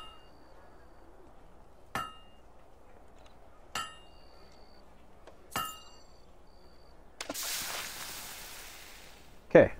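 Hammer strikes at a forge in the video game Fable 2 ring out as three spaced metallic clinks, then a burst of noise and a final sharp clang, fairly close with no talk.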